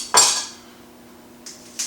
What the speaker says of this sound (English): finely slice these into little bits like this